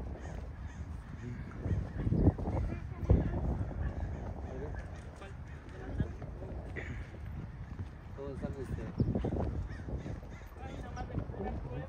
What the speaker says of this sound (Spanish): Se vienen a dar su banquete a los cuervos.